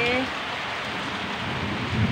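Heavy midday monsoon rain pours down in a dense, steady roar of drops striking surfaces, loud and unbroken throughout.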